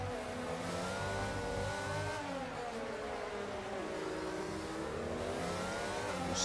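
Pack of F1 race cars in a video game at the Singapore circuit, several high-pitched engines revving together with rising and falling tones, a loud continuous drone close by.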